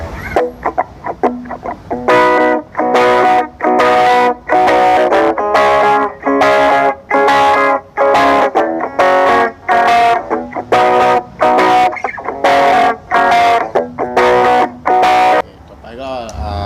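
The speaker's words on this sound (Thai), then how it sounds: "ก็มาลองที่เสียงคลีนก่อนนะครับผม" Electric guitar strummed in steady rhythmic chords with a clean, bright tone through a small battery-powered portable mini amp, fairly loud and without any voices.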